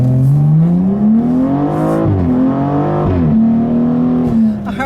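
Tuned 2015 BMW M235i xDrive under way, its engine note rising and falling through gear changes as a loud, steady drone heard from inside the cabin, with no talking.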